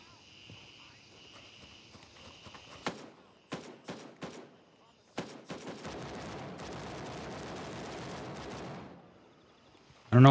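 Video game gunfire in a shooter match: bursts of sharp shots, several short volleys, then a sustained stretch of rapid fire, with faint game ambience around it.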